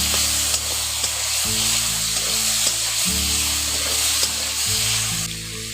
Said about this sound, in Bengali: এখন ফোড়নটা একটু ভাজা হয়ে গেছে, ওর মধ্যে টমেটোটা দিয়ে দিচ্ছি